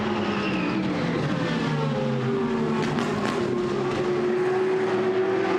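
GT race cars, a Mercedes and a Ferrari, racing at Misano: a continuous engine whine whose pitch slowly falls as the cars pass, moderately loud, with no talk.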